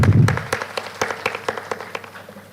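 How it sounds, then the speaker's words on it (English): Audience at an international engineering and technology conference applauds to welcome the dignitaries. Scattered, moderately loud claps ring out and thin toward the end. "Let's welcome all the dignitaries with a round of applause."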